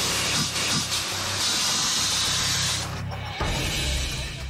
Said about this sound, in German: Einfach einen Sprühschuss drauf.